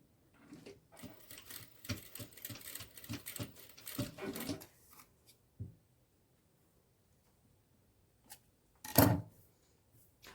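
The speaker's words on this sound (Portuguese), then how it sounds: "Vou passar uma costura aqui só pra ela ficar presa na posição." A sewing machine stitches a curved zipper seam on a fabric bag in a fast, rattling run of several seconds, then falls mostly quiet before a short, louder burst near the end.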